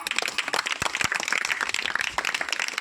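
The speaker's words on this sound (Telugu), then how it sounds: "కొట్టు చప్పట్లు ఒకసారి" An audience at an outdoor Christian gospel meeting claps, giving a short burst of quick, sharp hand claps close by, uneven and scattered rather than one single clap.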